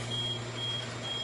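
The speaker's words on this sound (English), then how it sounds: "The crane's alarm just went off." A crane's warning alarm on a rainy log-home construction site sounds as a steady, high-pitched electronic tone over a low mechanical hum.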